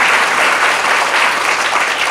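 Sustained audience applause at a Hong Kong Cantonese opera retrospective event honouring Leung Sing-por, dense steady clapping filling the whole stretch with no voices on top.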